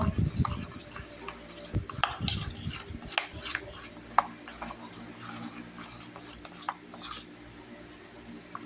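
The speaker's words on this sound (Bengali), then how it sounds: "ভালো করে বেসনটা ফেটিয়ে নেব" Gram flour (besan) batter whisked in a bowl with a rasping, scraping rhythm of quick, close strokes, fairly quiet, with occasional clinks of the utensil against the bowl.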